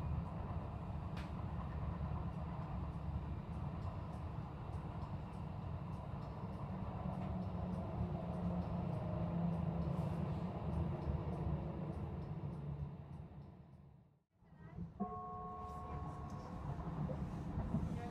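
A German regional train runs at steady speed on a Black Forest line near Ottenau, with a constant rumble and rail noise heard from inside the carriage, followed by a brief dip and a soft chime near the end.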